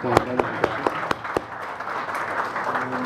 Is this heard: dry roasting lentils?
no